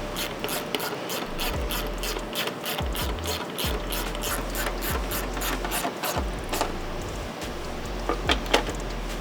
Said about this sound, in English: we're going to tighten up the hardware